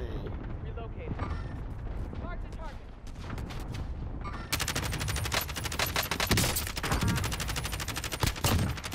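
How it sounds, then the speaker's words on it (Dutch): An airstrike in Call of Duty: Modern Warfare 2, with rapid gunfire and explosions. Dense crackling bursts and heavy blasts build in the second half under occasional speech. "Pas op, airstrike."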